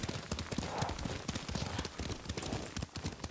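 A horse's hooves clop in a quick, steady gallop while riding in the Ghost of Tsushima video game, loud and close, with no talking.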